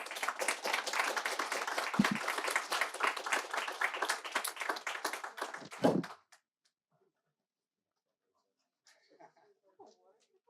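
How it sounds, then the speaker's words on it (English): Audience applause for seminar panellists in a room, a dense run of clapping for about six seconds that stops abruptly, followed by near silence and a few faint distant sounds. "join me in a round of applause for our panellists"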